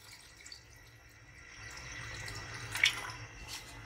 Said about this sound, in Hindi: अब तकरीबन 2 गिलास के करीब मैं इसमें पानी ऐड करूँगी